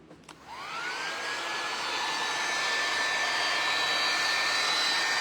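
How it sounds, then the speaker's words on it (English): A handheld heat gun drying crackle paste primer on a craft decoupage project starts with a click and then roars into a steady, loud blowing whoosh with a thin rising whine. It stays close and constant, with no talking. "I'm gonna go ahead and hit it with my heat gun."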